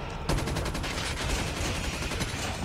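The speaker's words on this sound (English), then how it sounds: "Sentry gun doing work." Automatic sentry gun in Call of Duty Mobile zombies mode opening up in a sudden sustained burst of rapid gunfire, loud and dense, continuing to the end without pause.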